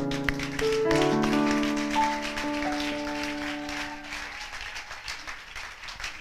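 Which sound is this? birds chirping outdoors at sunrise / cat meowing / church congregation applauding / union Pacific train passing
church congregation applauding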